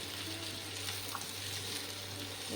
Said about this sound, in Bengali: কুমড়োগুলো হালকা ভাজা হবে কুমড়োগুলো একটু উল্টে পাল্টে দিচ্ছি